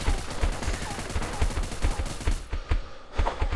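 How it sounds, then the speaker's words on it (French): Rapid machine gun fire from a weapon in the video game BeGone, loud steady bursts of closely spaced shots throughout, with a short pause near the end before firing resumes. "cette arme elle tire bien. C'est vraiment une bonne mitrailleuse."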